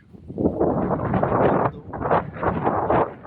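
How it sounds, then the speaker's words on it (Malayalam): Gusty wind buffets the microphone in loud, uneven rumbling bursts that swell and ease. "ഇന്ന് നല്ല കാറ്റുണ്ട്"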